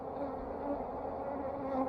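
Honey bees buzz in a soft, steady drone at an open hive, a close hum that holds on without pause.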